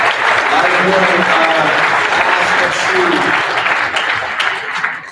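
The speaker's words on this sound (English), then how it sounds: "One more round of applause for all of you for being here." A sustained round of applause from the audience at a company training session, loud, steady and dense throughout, with some voices and cheers mixed into the clapping.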